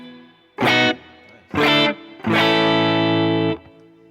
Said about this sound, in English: So having the reverb, it sounds, it gives it a sense of space.